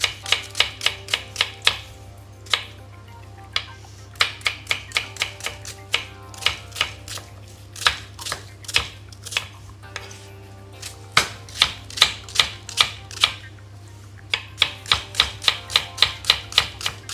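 A kitchen knife finely chops medium-sized onions on a board in a run of quick, crisp taps with brief pauses, close and clear over a low steady hum.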